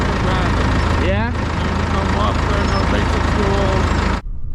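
A tractor engine runs loud and close at a landfill, a steady rumbling drone with a brief whine partway through, continuing under nearby talk before cutting off abruptly near the end.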